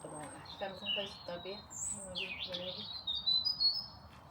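Sparrows chirp and tweet in quick, high bursts, with people talking over them throughout.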